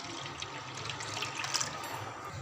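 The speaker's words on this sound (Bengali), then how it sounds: "এর মধ্যে আমি সামান্য জল অ্যাড করে দিচ্ছি।" Water is poured into a besan (gram flour) mixture for kadhi, a faint, steady trickling splash that continues evenly throughout.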